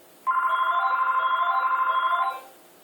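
A phone rings once during a piano tutorial, a steady electronic warbling tone lasting about two seconds, near and clear, with no talk.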